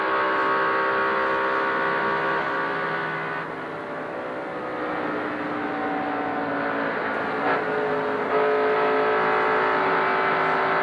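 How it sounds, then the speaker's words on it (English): A NASCAR Winston Cup stock car engine from 1988 drones steadily for the whole stretch, its pitch and loudness shifting as the driver comes on and off the throttle, with a brief dip in the middle before the roar builds again. "You can hear exactly when he is on and off the throttle."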